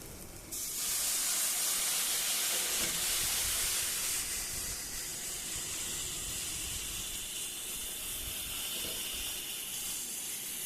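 Rice being stir-fried in a pan for Basanti pulao, a loud steady sizzling hiss that bursts in abruptly and continues unbroken, easing slightly partway through, with no voices.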